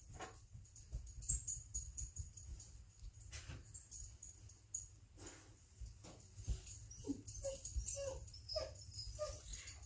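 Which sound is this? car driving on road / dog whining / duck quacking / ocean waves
dog whining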